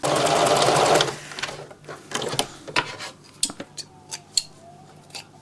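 A sewing machine runs in a fast continuous burst stitching a dress sleeve closed, then stops, followed by several sharp clicks and snips of handling and cutting nearby.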